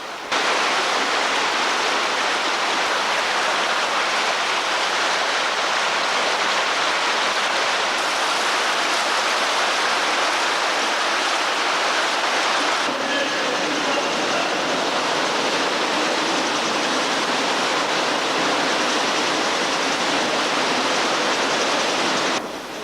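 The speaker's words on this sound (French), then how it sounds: "La pluie qui tombe depuis plusieurs heures amorce une crue souterraine." Steady, dense rush of rain and flowing water echoing in a cave as an underground flood begins, a continuous broadband wash that stays loud and unbroken throughout with no voices.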